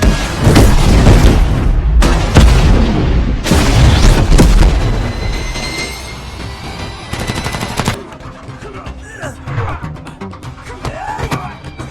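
Loud bursts of gunfire and heavy booms crash one after another in the action film Vanguard (2020), dense at first, then thinning into scattered shots and rumbling over a noisy background.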